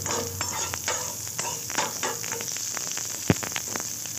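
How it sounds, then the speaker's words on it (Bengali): Grated coconut lightly frying in a pan for a vegetarian chana dal, a soft continuous sizzle with repeated scraping strokes of stirring and one sharp knock near the end. "হালকা করে নারকলটাকে আমি ভেজে নিচ্ছি।"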